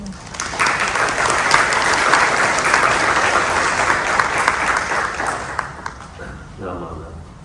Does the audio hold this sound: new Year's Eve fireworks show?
no